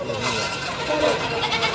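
A goat bleating at a livestock market, a wavering nasal cry that rises briefly amid crowd chatter and people talking close by.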